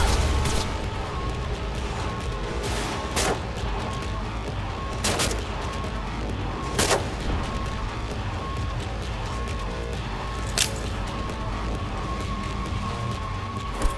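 Gunfire in the video game Cyberpunk 2077 comes as scattered sharp shots and short bursts over a steady background din.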